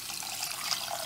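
One cup of water pours into a cooking pot over a spiced turmeric and salt mixture, a close, steady liquid splash with no talk.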